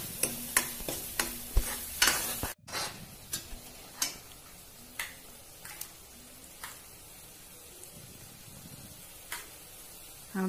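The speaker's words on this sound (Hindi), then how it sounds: "अब हम इसे भून लेंगे अच्छे से, सारे मसाले अच्छे से भून जाएं और तेल छोड़ दें" Gravy and spices for malai kofta are sautéed in oil and stirred in a pan, with quiet sizzling under a run of sharp, evenly spaced spatula ticks and one heavy knock early on.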